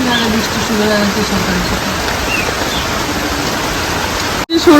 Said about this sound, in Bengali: এক ফোঁটা দু ফোঁটা বৃষ্টি শুরু হয়ে গেছে